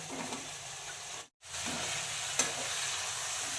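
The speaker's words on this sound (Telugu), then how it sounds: "నూనె వేడెక్కగానే ఆనియన్స్ వేస్తున్నాం" Onions and drumstick pieces fry in hot oil, giving a steady close sizzle with a brief cut to silence partway and a small clink after.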